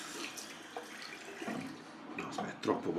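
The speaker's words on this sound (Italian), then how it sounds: "C'è da mettere un altro pochino d'acqua." Water pours and splashes into a shaving bowl in short bursts while people talk nearby.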